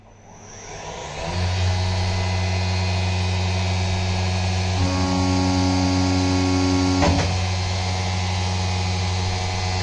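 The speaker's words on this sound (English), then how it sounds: "the machine will shake and some roughing machining" A DIY CNC machine makes a roughing cut while milling a 5th axis trunnion: a steady loud motor hum and whine that rises at the start, then holds with added tonal chatter and a brief harsh burst near the end.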